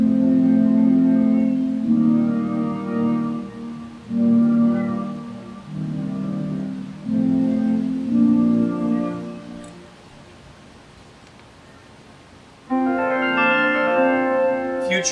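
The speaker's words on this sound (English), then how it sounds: "Warm pad." A warm, mellow pad patch on a Yamaha Reface DX synthesizer holds soft sustained chords that shift every couple of seconds, with a brighter chord entering near the end.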